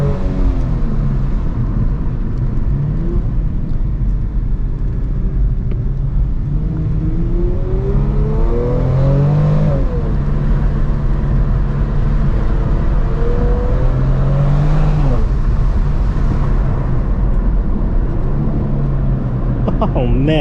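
A 2022 Kia Stinger GT2 fitted with a Borla active valve exhaust, in sport mode with the windows down, droning and rising and falling through paddle-shift downshifts, loud and steady throughout, with a voice heard over the engine.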